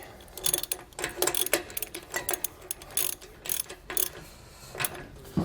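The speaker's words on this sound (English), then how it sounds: "So now we went ahead and tightened and loosened our nut a couple times." Ratchet clicking in quick repeated bursts while a trailer hub nut is tightened and loosened on the spindle during a Kodiak disc brake install, close and crisp with short pauses between strokes, no talking.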